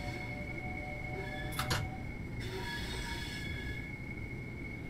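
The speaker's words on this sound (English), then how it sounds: "Lots of wheel flange." Train wheel flanges squealing on a tight curve in a train simulator game, with sustained high thin tones over a continuous low rail rumble and a brief louder screech midway.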